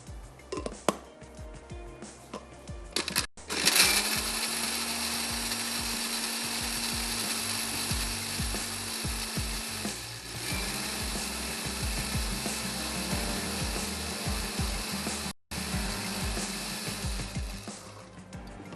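An electric blender grinds onions with a little water, starting after a few knocks and running as a loud, steady whirring roar for about fifteen seconds, briefly shifting pitch midway before cutting off.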